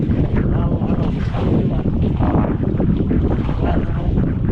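A boat engine drones steadily and loudly throughout, mixed with rushing wind and water noise, with no pauses.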